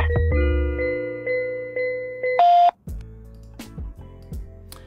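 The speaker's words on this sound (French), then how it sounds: "Veuillez laisser votre message après le bip." A short, clear electronic beep sounds once after a steady tone, followed by a few clicks and knocks.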